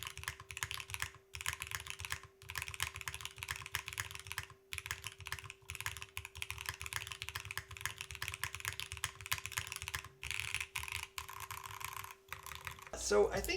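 Steady clacky typing on a Class65 version 3 mechanical keyboard, close and continuous with brief pauses, a faint constant hum underneath and a louder clatter right at the end.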